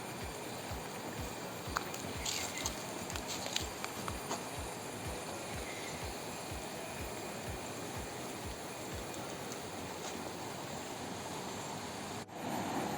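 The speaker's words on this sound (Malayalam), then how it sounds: "മഴയൊക്കെ ആയതുകൊണ്ടാണ് ഇത്രയും വെള്ളത്തിന് ഒഴുക്കുള്ളത്" A strongly flowing river swollen after rain rushes steadily near the Kadumana hanging bridge at Mulleria, a constant broad wash of water without pause or speech.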